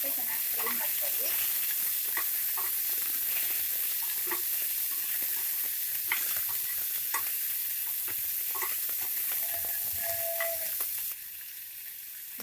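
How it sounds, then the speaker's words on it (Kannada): Tomatoes frying in a pan for a country chicken bas saaru, a steady crackling sizzle with frequent small pops and occasional stirring scrapes, continuous and close, dropping quieter near the end. "ಟೊಮೆಟೊ ಹಾಕಿದ್ಮೇಲೆ 1-2 ನಿಮಿಷ ಚೆನ್ನಾಗಿ ಫ್ರೈ ಮಾಡ್ಕೊಳ್ಳಿ"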